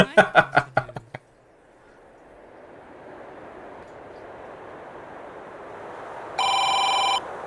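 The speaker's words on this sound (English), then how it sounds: "The phone." A single ring from a telephone in a video game sounds loudly for under a second near the end, after faint footsteps and a long stretch of low rumbling ambience.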